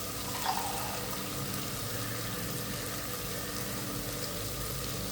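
Water flows steadily into rice for a plain biryani, a continuous close splashing pour with a brief brighter splash near the start and no talk.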